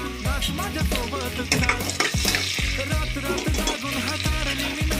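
Chopped onion sautés in hot oil in a pan for chicken kala masala, a dense continuous sizzle and crackle with repeated scraping stirs and clinks of a spoon against the pan, loud and close.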